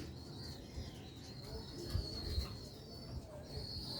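A loft of pure Sialkoti Ali wale pigeons keeps up a gentle, overlapping cooing, low and quiet, with occasional thin chirps and a light flutter against a soft background murmur.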